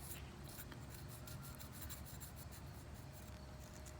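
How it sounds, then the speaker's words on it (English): Wet sandpaper rubs back and forth across a selenite crystal's granular edge, a faint, continuous gritty scraping with soft rhythmic strokes, close and quiet. "I'm going to rub this point of the sandpaper up and down the granular structure"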